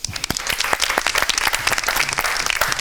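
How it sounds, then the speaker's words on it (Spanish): Audience applause welcoming a guest lecturer to a history-of-science master class, a dense burst of many hands clapping close by and steady throughout, with no talk over it. "Un aplauso."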